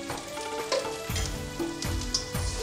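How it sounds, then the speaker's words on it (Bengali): Ground cumin and turmeric fry in a pan, sizzling steadily and close by. Soft scrapes of stirring come through now and then. "ভালো করে ভেজে নেব মশলাগুলোকে"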